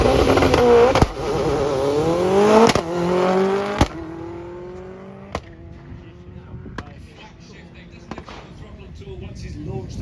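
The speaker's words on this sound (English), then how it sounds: "Once he's launched the car, just pulls the lever back, automatically just pumps the engine. Those cracks you hear is every time he changes the upper gear." A Ford Escort Group A rally car in Belgian Bastos colours launching at a hillside classic car event, its engine revving loudly and climbing through gears with sharp cracks at each upshift, then fading into the distance under crowd murmur.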